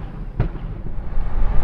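A single firework burst goes off at a distance over North Kansas City, a short dull boom followed by low rumbling outdoor ambience with no talk.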